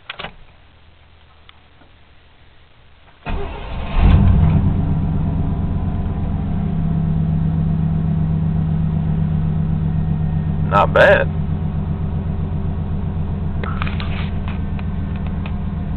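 A 1992 truck's fuel-injected 350 V8 cranks and fires on a cold start, then settles into a steady, even idle hum with a faint ticking, while a brief voice speaks over it.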